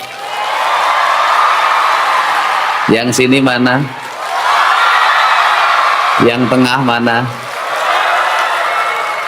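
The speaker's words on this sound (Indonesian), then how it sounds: "Sebelah sana tepuk tangannya juga." A large audience applauds in steady, dense waves at a speech by the West Java governor before clerics and officials. The clapping twice gives way to a short spoken question from the speaker, then resumes.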